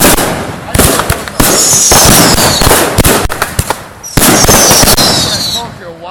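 Fireworks salutes and flashbang shells bursting in rapid loud cracks and crackling volleys outdoors at a fireworks show, with long crackle tails and voices audible between bursts.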